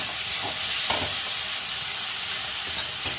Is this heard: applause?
no